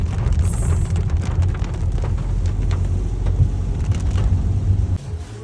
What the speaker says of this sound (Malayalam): ഇവിടെ മഴയാണ് ഇന്നലെ മഴയായിരുന്നു അല്ലേ ഇന്നും മഴയാണ്